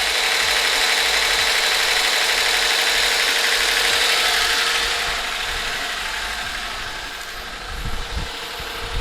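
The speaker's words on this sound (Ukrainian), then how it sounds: "Двигун працює рівно, працює хорошо." A VAZ 2107 car engine idles steadily close by, a dense even mechanical hum with a fast rattling texture, easing slightly softer toward the end.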